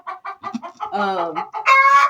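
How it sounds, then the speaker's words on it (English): A hen cackles loudly and close by right after laying an egg, giving a rapid series of clucks that rises into a drawn-out, squawking call. "Apparently I have a chicken in here that either just laid or is ready to lay."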